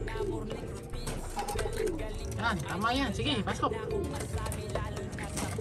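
Pigeons coo in soft repeated warbling calls close by, while a person talks gently over them in Filipino.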